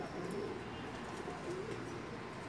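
Soft, low pigeon cooing repeats over a steady outdoor hum at night in Jeddah, Saudi Arabia, a few rounded calls rising and falling at moderate distance.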